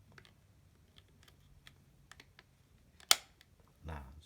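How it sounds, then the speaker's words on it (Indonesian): A single sharp click snaps out clearly as a GoPro Hero 9 Black mount locks into place over faint tapping and rustling, followed by a soft thump. "Kita dorong sampai bunyi klik."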